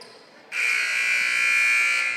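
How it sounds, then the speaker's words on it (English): After a brief quiet moment, a loud, sustained electronic game buzzer at a boys' basketball game sounds and holds steadily for nearly two seconds. "There is the buzzer"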